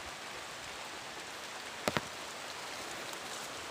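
Light drizzle falling outdoors in a garden where a sapodilla tree is being air-layered, a faint steady patter of soft noise with a couple of brief sharp knocks midway.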